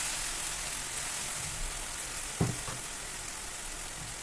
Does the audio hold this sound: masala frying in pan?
yes